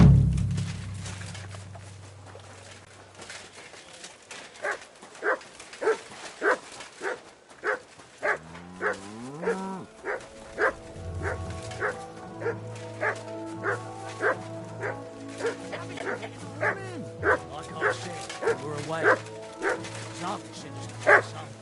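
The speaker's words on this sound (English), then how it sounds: "Here, Mutt" Dog barking in the video game Kingdom Come: Deliverance 2, a long series of evenly spaced, repeated barks with some whimpering and yips, over a low droning background sound.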